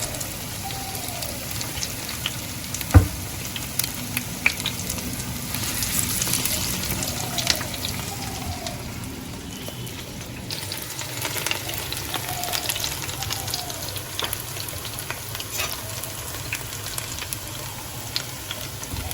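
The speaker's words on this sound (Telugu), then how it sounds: "మరి నూనెలో ఫ్రై చేయాలి కదా" Lentil fritters packed with coriander, amaranth, mint and curry leaves fry in hot oil, giving a steady close sizzle and crackle throughout, with occasional light clinks.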